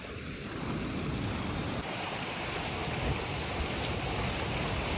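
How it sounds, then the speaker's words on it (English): Creek water rushes through a broken sand berm toward the sea, making a steady, loud, broadband roar of churning flow with no talking. "We got a creek break going down today. Break the berm, baby."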